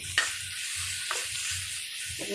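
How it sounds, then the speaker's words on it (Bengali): Prawns sizzle in a hot pan, a close, even hiss with a few sharp utensil clicks against the pan and no voices. "চিংড়ি মাছটি একটু ভেজে পরে পেঁয়াজ দিব।"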